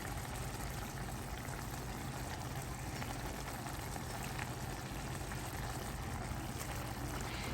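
Cooked pasta lifted straight from its pot of boiling water and drained into a dish for shrimp primavera, giving a steady close rush of trickling, splashing water that runs unbroken throughout.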